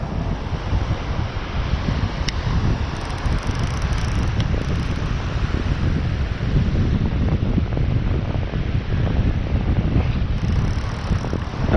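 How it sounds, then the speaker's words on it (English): Strong coastal wind roars continuously against the microphone at a shore fishing spot with the surf behind it, a loud, unbroken rumbling blast with no talking. "The wind is picking up"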